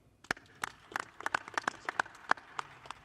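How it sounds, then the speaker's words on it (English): Sparse, faint applause from a small audience at a boxing press conference, individual claps scattered irregularly rather than a full roar, with a quiet room behind. "Like a round of applause, please, for Joseph Markowski."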